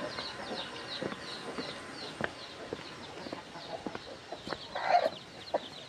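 Hens in a farm chicken coop cluck softly and repeatedly nearby, with short scattered calls and one louder squawk near the end.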